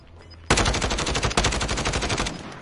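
Automatic gunfire bursts out suddenly and loudly in a multiplayer shooter video game, a rapid sustained rattle of close shots lasting about two seconds with a brief break partway through, no voices.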